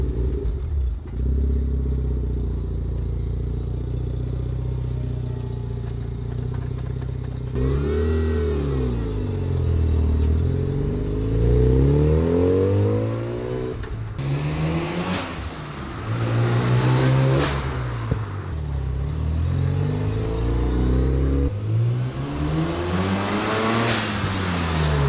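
A stock Mazda RX-7 FD sports car accelerating on a drive, its rotary engine loud and close, rising and falling repeatedly through gear changes with sweeping revs over about twenty-five seconds.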